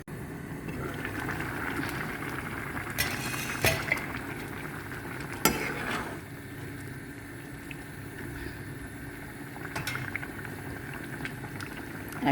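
A pot of bottle gourd curry bubbles on the stove with a soft, steady simmering burble, broken by a few sharp clinks and a stir of a spoon against the pot.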